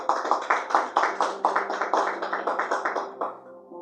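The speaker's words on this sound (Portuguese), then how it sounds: "Palmas para Jesus, irmãos." Church congregation clapping in a steady, rhythmic beat for several seconds, many hands together fairly close, then fading out at the end.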